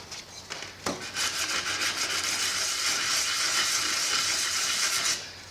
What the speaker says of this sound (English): rub it on the concrete and roughen up the face of your hammer a little